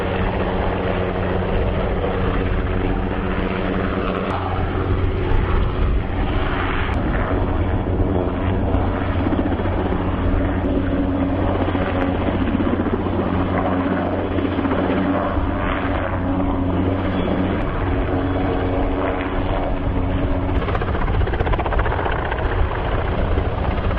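A helicopter lifts framework sections for a 450-foot tower near a university lake campus, its rotor and engine giving a continuous loud, pulsing drone that holds steady throughout.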